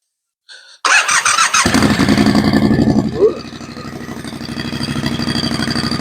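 A Triumph Scrambler 1200 XC motorcycle engine cranks and fires up loudly, revs briefly, then settles into a steady, throbbing idle close by.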